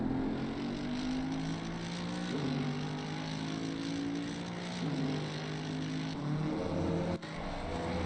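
A race car engine in a sim racing game at Imola, droning steadily with repeated rising pitch sweeps as it revs through gears, loud and continuous with no talk, plus a brief sharp click near the end.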